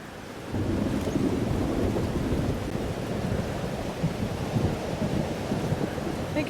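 A thunderstorm rolls on in the game Life is Strange: Double Exposure, a steady, dense rumble of wind and rain with low thunder swelling through it. It holds loud and continuous from just after the start to the end.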